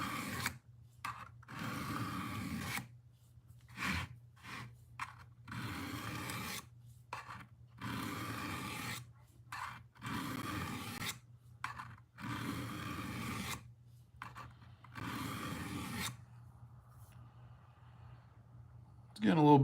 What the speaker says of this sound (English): So there ain't nothing wrong with a little hand sharpening either.